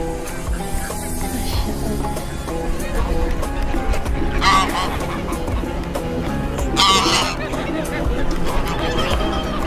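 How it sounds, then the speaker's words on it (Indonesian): Birds squabbling and calling while someone feeds them bread in a busy outdoor tourist spot in Avanos, with crowd chatter and people talking throughout, plus a couple of brighter bursts of activity. "Ini ada yang lagi ngasih makan burung, ya."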